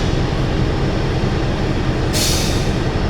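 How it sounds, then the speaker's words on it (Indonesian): Cikuray economy stainless steel passenger train at Bandung station, Indonesia, rumbling loud and close in a steady, dense roar, with a sudden hiss of air brakes joining partway through. "Sesaat lagi kereta api Cikuray akan diberangkatkan nih kawan."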